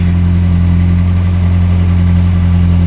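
A Morris Minor car engine idles steadily, loud and close, with a deep even hum and no change in pace throughout.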